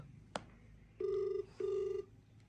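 A phone's ringback tone sounds twice, two long even beeps separated by a short pause, preceded by a sharp click, quiet and without talk.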